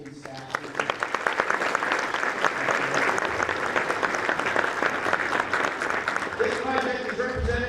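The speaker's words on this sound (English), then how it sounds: "how about a round of applause for all of the faculty and staff?" An audience at a fieldhouse ribbon-cutting ceremony gives faculty and staff a steady round of applause, a dense sustained clapping heard close and without interruption.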